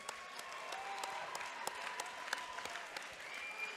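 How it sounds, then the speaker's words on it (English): Steady audience applause fills a cage arena at an amateur MMA event after a bout, a dense wash of many clapping hands at moderate distance with scattered sharper claps and a faint cheer or two. "How about a big round of applause for these two guys?"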